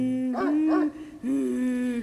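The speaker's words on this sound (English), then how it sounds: "A dog is whining like it's afraid of something." A frightened dog whines in the horror game Spirit Hunter NG, with two rising-and-falling whimpers followed by a longer sustained whine, clear and close.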